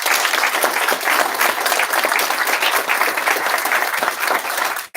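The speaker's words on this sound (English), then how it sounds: "maybe we can give the candidates a round of applause for coming" At a town hall for Carmel city council candidates, the audience gives loud, sustained applause with brisk, crisp clapping that runs for about five seconds before cutting off.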